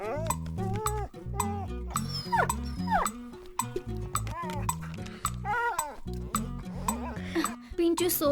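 A dog named Pinchu barks, yips and whimpers in a series of short, sharp calls through a busy indoor scene, with voices and other sounds mixed in around it.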